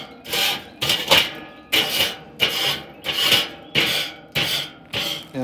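A grate cleaner scrapes a Weber kettle grill grate in about seven rhythmic rasping strokes, each a harsh close-up rub with short pauses between.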